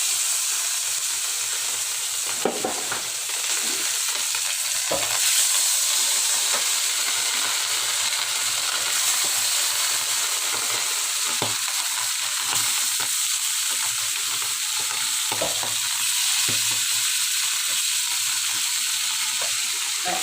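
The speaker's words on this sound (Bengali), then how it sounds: "আমার তেলটা গরম হয়ে গেছে, আমি মাছ দিয়ে দিচ্ছি।" Rohu fish frying in hot oil in a home kitchen, a loud continuous crackling sizzle with occasional sharper pops and stirring knocks, close and steady for the whole stretch.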